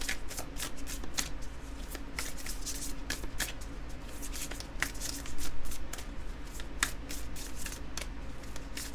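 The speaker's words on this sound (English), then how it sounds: "We're going to draw you a card from my deck and see what else we can get for you" Tarot cards being shuffled by hand, a continuous run of crisp riffling and flicking card sounds up close, with a brief louder burst partway through.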